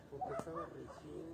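Dogs barking and yipping at night somewhere in the background, a few faint short barks and whimpers mixed with murmured talk nearby.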